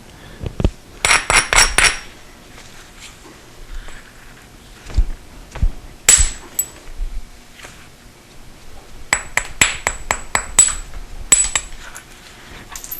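Flint knapping strikes flakes off stone in bright, sharp clicking taps, close and crisp, arriving in quick clusters of several hits separated by brief pauses.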